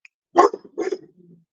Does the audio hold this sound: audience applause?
no